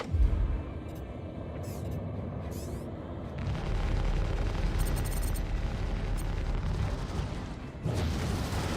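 Missile hit explosion in the Super Hornet space combat game: a deep, rumbling blast swells into a sustained roaring boom, with a few sharp impacts early on and a fresh surge of rumble near the end.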